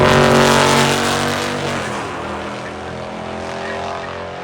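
A Shelby GT500 makes a drag race pass against a Mopar, its engine loud and close at first with a rising roar that fades as the car pulls away down the strip.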